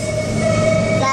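An R32 subway train rides the J line in New York, a continuous close rumble with a sustained whining tone over the wheels, steady throughout this short stretch.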